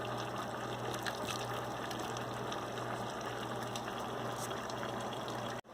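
Potato soup pours steadily into a blender, a continuous close liquid gushing and splashing that runs unbroken before stopping abruptly.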